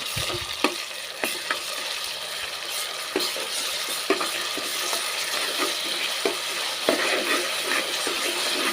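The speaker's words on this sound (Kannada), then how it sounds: "2 ಸ್ಪೂನಷ್ಟು ಶುಂಠಿ ಬೆಳ್ಳುಳ್ಳಿ ಪೇಸ್ಟ್ ಹಾಕ್ತಾಯಿದ್ದೀನಿ. ಶುಂಠಿ ಬೆಳ್ಳುಳ್ಳಿ ಹಸಿ ವಾಸನೆ ಹೋಗೋವರೆಗೂ ಫ್ರೈ ಮಾಡಬೇಕು." Ginger garlic paste frying in a pan for egg biryani, a constant bright sizzle with scattered clacks of a spoon stirring and scraping, close and fairly loud, no speech.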